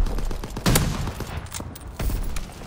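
Gunfire crackles in a World War II Call of Duty shooter, with repeated sharp shots and heavier bursts around the middle and near the end, set in a busy battle mix.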